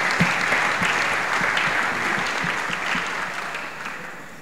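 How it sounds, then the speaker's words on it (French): A convention audience in a hall applauds the Lord with dense, continuous clapping that stays loud and steady before tapering off slightly toward the end. "Acclame le Seigneur pour le dîner."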